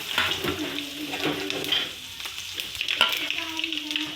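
Mustard seeds and cumin sizzling in hot oil in a pan, a loud, continuous close-up crackle and hiss with faint stirring and no talk.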